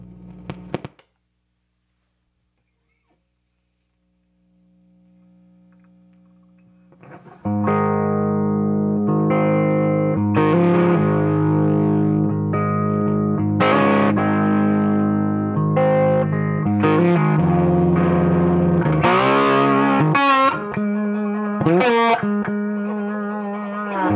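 An electric guitar with a capacitor tone mod plays through distortion. A few quiet plucked notes come first, then sustained, loud overdriven chords and riffs ring out.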